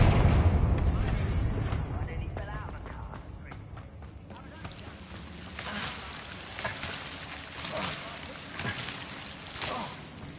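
A Confringo fire spell blasts out in Hogwarts Legacy, a loud rumbling burst followed by crackling, whooshing combat noise and scattered impacts, with a voice speaking in places.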